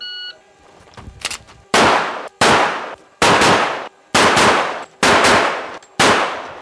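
Handgun shots at an outdoor firing range, six loud sharp reports spaced about a second apart, each ringing out with a decaying echo, after a short clank of handling.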